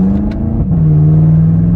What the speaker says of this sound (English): it is just muffler deleted, and it does not even have pipes that come out the back